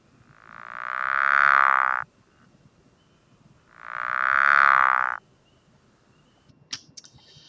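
A single frog gives two separate long, loud trilling calls, each about a second and a half, with a quiet gap between them. A few faint clicks follow the second call.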